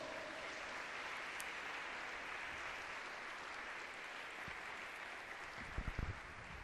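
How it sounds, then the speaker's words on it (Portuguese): Faint, continuous applause rises from the congregation at a Catholic charismatic renewal gathering in a church, a soft even wash of clapping that carries on for several seconds, with a few louder knocks near the end. "Uma salva de palmas para o Senhor."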